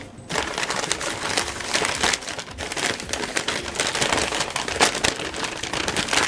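Wormwood smudge wand being unwrapped from its packaging, giving steady close crinkling and crumpling of wrapper material that runs throughout without speech.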